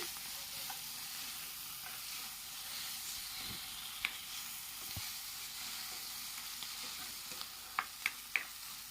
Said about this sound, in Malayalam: നമുക്ക് വീണ്ടും ഒന്ന് വഴറ്റി കൊടുക്കാം